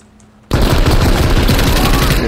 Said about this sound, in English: he's going off with a pistol